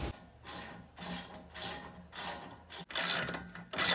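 Ratchet clicking as 17mm caliper bolts are tightened on a Toyota 4Runner front brake job, several bursts of close, loud rapid clicks separated by short pauses, with a heavier run near the end.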